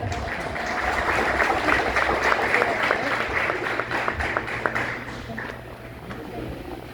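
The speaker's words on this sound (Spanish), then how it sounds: "todos quienes se entregan los defiendan los que me enfrentan con un aplauso" People gathered at an evangelism meeting applaud together, a steady wash of clapping that swells and holds before thinning toward the end, with some voices mixed in.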